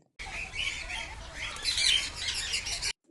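Crows caw and squawk harshly at a zoo, several birds calling at once in a continuous, moderately loud chorus that swells near the middle.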